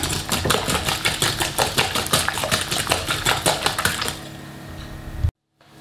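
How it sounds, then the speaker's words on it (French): Four whole eggs and sugar whisked briskly in a bowl until pale, a quick rhythmic clatter of the whisk against the sides for about four seconds, then a softer scraping before it stops. "il nous suffit de blanchir légèrement nos œufs et le sucre"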